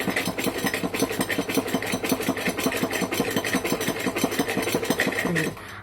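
Sewing machine stitching a pair of pants, running steadily with a rapid, even needle rhythm for about five and a half seconds before stopping; close and loud, no talking.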